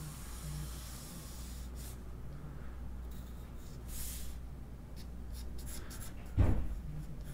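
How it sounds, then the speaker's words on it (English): Light pencil strokes on paper while sketching posts and bird shapes for an easy art lesson, a faint steady scratchy hiss with brief swells and one louder bump near the end, no talking. "I'm going to grab my pencil and then really lightly try to go in here."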